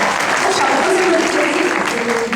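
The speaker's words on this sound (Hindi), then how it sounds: "एक बार जोरदार तालियों से" Audience applause at a Hindi kavi sammelan poetry gathering, a steady dense wash of clapping sustained throughout at close range, with voices faintly mixed in.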